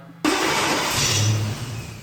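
A tuned 1200-horsepower car engine running on 91-octane fuel bursts into life in a dyno room after a moment of quiet, then settles into a loud, steady running roar close by.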